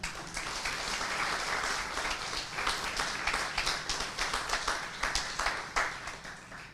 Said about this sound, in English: And he deserves a separate round of applause